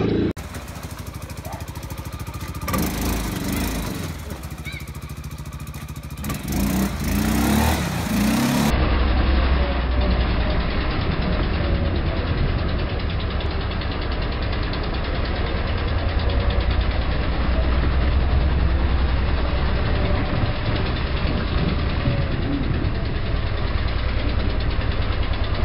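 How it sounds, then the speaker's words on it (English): A quad bike engine runs steadily and loudly throughout, a continuous droning, rumbling idle close to the microphone with some rough broadband noise over the first few seconds. "Driving the quad bike, it's a little bit scary."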